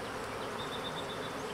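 Honeybees buzzing around an opened hive during a frame inspection, a dense continuous hum of many insects close by, steady and low in level with no talk.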